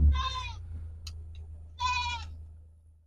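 Goats bleat in their shelter: two loud wavering bleats close by, separated by a short pause with faint rustling, all over a low steady background hum.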